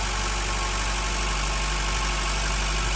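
A Honda Integra GSR engine idles a little high, giving a steady, loud, close mechanical drone with constant low rumble and vibration and no speech.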